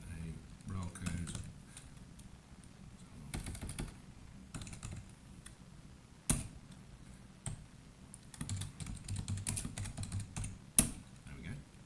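Keys clattering on a computer keyboard as a paint colour code is entered, in quick bursts of clicks with short pauses, fairly close and moderately quiet.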